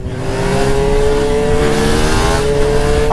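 A new motorcycle's engine revs loudly and steadily close by, its tone climbing slowly as the bike gets up to speed.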